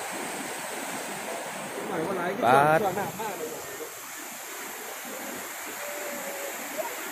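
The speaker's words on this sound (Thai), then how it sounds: "น้ำไหลแรง" A fast, strong river rushes in a steady broadband roar, and a voice briefly speaks over the flowing water.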